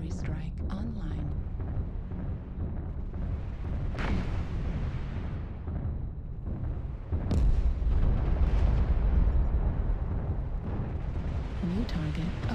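Artillery strike explosions in the MechWarrior Online game, several heavy booms and rumbling blasts spaced out over a battle, with a voice talking through parts of it.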